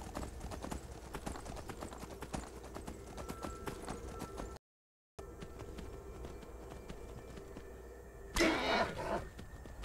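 Horse hooves clip-clopping in the video game Skyrim: a steady, evenly paced run of hoofbeats at moderate volume, broken by a brief gap and followed by a short louder burst near the end.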